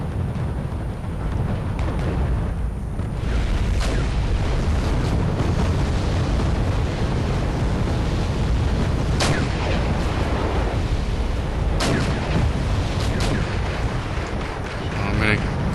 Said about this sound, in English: And more artillery coming down. This one's actually on target,